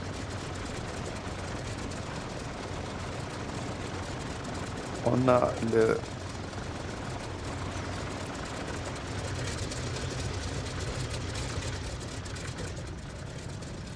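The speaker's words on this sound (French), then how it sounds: "moteur droit donc a démarré" A simulated Douglas DC-3 (C-47) piston engine runs steadily in X-Plane 11 after start-up, a low continuous drone under someone speaking French, with a brief burst of talk midway.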